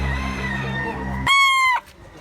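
An 18-month-old stag rooster gives a single short, loud, harmonic crowing call lasting about half a second, cutting through a steady low background rumble that drops away just before the call.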